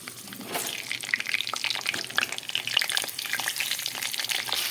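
Pointed gourd (potol) frying in hot oil with nigella seeds gives a steady, close crackling sizzle with dense popping spatters throughout, and no one talks.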